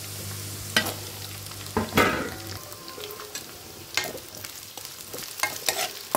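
Small-cut cauliflower and carrot frying in a pan, with a continuous sizzle broken by sharp clatters of a spoon stirring and scraping the vegetables.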